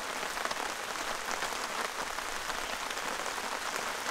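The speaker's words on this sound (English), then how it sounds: "I love the rain." Steady rain falls over a solo camping spot, a dense, even hiss of drops on surfaces with no voices, holding at a constant level throughout.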